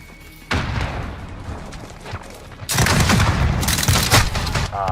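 Shotgun fire in a first-person shooter video game, heavy dense blasts and rattling bursts at loud, close range, swelling into sustained heavy fire in the second half, with no speech over it.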